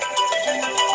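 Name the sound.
phone ringtone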